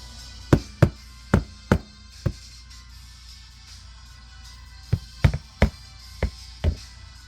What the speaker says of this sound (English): shake this off the wood here, knock them off